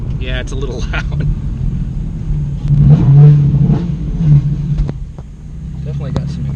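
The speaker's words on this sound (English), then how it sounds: "Definitely got some exhaust freaking rattly happening." A Nissan 350Z engine revs up with a loud, rattly exhaust, swelling in the middle of the clip, while people talk over it throughout.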